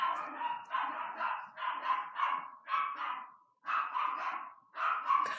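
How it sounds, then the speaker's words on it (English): A pet dog indoors gives a run of yappy, high-pitched barks and whiny yips in quick repeated bursts with brief pauses, moderately close but not loud. "I just love getting interrupted by my dog."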